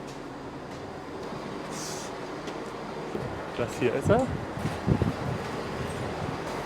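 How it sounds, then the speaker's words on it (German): A regional train bound for Lauterburg pulls into a station, a low rumble with squealing wheel and brake tones rising midway, while someone speaks briefly over it. "das ist jetzt der Zug Richtung Lauterburg"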